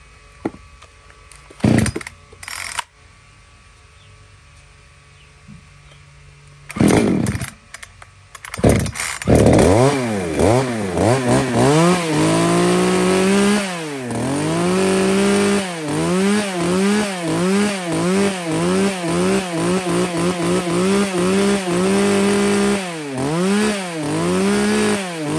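Small Japanese-market chainsaw of the Stihl, Husqvarna, Echo, Shindaiwa or Makita class, a light saw for cutting branches, pulled to start after a few knocks, then running loud and close with repeated throttle revs rising and falling.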